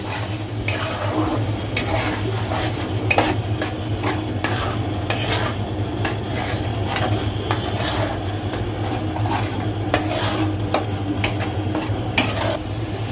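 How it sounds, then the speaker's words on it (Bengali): Ground spice paste frying in oil for a Bengali shahi chicken korma, stirred with a spoon: a steady close sizzle under repeated scraping and rubbing strokes across the pan, continuous for the whole stretch with no talking. "এখন মশলাটা ভালোভাবে কষিয়ে নিব।"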